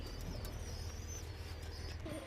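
Giribaz high-flying pigeons coo faintly inside a loft, with soft, low murmuring calls and a few light chirps over a steady background hum.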